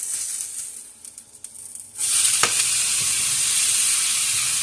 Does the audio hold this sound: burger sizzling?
yes